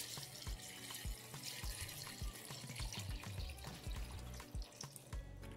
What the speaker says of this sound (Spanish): voy a poner agua